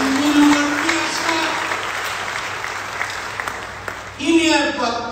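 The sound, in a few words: applause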